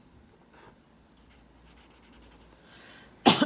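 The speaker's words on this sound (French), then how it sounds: "on dessine le schéma" Pencil or pen scratching on paper while a fraction diagram is drawn by hand, soft short strokes over a quiet room, ending with a louder scrape near the end.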